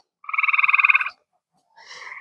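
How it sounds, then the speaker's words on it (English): A frog croaking loudly from under a chicken coop by a pond, one rapid pulsing croak of under a second, then a short pause and the start of a second call, close and echoey. "That frog, wherever he is right here under the coop."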